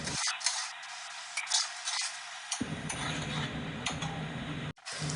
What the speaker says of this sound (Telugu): కరివేపాకు వేగిన తర్వాత మనం తయారు చేసుకున్న ఉల్లి పేస్ట్ వేసేసుకోండి.